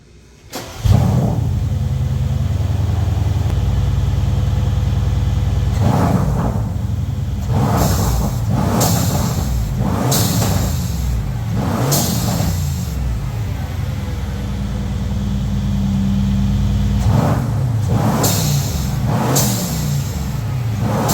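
Mercedes C63 AMG engine, already warm, revving repeatedly with DIY blow-off valves vented to atmosphere, loud bursts of throttle over a steady idle, each rev ending in a sharp whooshing vent release.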